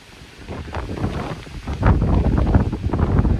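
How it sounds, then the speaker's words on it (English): Gusty wind buffets the microphone at a mountain campsite among trees, a steady low roar that surges louder partway through and keeps rumbling with no voices. "We've had some really strong gusts of wind recently."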